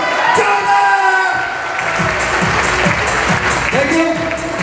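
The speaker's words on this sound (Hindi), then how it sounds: "तालियों को जोरदार।" Loud audience applause at a recognition ceremony, dense sustained clapping from a large crowd filling the whole stretch, with a few voices under it.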